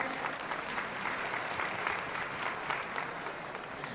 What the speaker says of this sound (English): give a big round of applause to these young people out here